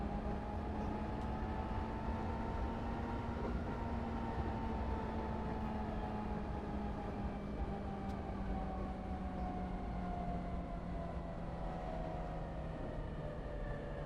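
A Minecraft train rides steadily along its railway, a continuous rumbling hum with a sustained drone that slowly shifts in pitch. It stays even and moderately loud throughout, with no voices.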